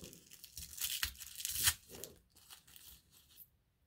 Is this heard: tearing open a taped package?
yes